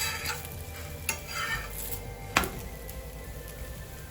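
Mixed pulses dosa cooks on a hot pan with a soft, low sizzle and a few sharp clicks and scrapes of a spatula, fairly quiet and close, with no voices.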